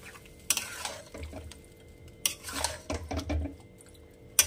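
Chicken korma being stirred in a cooking pot over high flame, with a few sharp spoon-on-metal scrapes and clinks in separate bursts, moderately close, and no voices.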